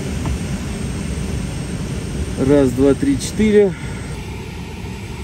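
Canadair CL-415 firefighting water bombers flying over a wildfire in France, heard as a steady, broad engine drone throughout while a man counts aloud close to the microphone.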